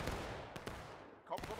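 Musket volleys crack out in the Civil War battle game War of Rights, several sharp bursts spread across the moment, mid-distance and fairly loud amid battlefield noise, with shouted voices nearby.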